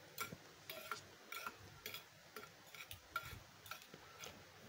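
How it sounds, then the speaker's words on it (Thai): Sesame seeds, sugar and salt are tossed together by hand, giving soft, rhythmic scraping and stirring strokes that repeat quietly and evenly. "แล้วก็คลุกให้เข้ากันนะคะ"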